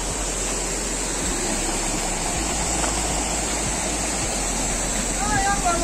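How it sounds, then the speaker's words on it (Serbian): The Ilomska waterfall pours steadily over rocks in a forest, a dense, continuous rush heard close by, with a faint voice and a brief whistle-like sound near the end. "I evo nas. To je taj vodopad."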